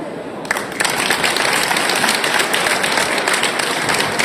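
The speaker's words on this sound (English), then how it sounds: "Let's give another warm round of applause to these artists of Shandong." An audience at a UN Chinese Language Day celebration in Vienna applauds artists from Shandong after their performance, dense steady clapping that swells in after a brief start and fills the hall loudly throughout.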